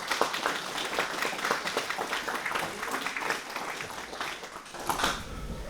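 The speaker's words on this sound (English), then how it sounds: "if we'd like to give them a round of applause" Audience applause for Vietnam-era veterans at an evening acknowledgement event in Hampshire: steady, dense clapping from a crowd of moderate size, holding even throughout with no voices standing out.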